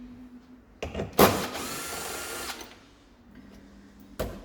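A brief whirring burst of a power tool backing out a 7mm bolt from the door trim panel of a 2020 Ford F250, with short clicks before and after, close and moderately loud.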